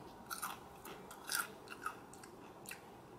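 Pringles potato chips being chewed close up, a handful of crisp crunchy bites spaced irregularly over a few seconds, fairly quiet with no talk.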